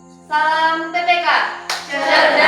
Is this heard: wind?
no